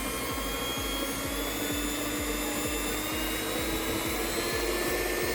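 A Kirin KSM 390 stand mixer's electric motor whirs loudly at high speed, a steady mechanical hum with a rapid rhythmic pulsing beneath it, running without pause from start to finish.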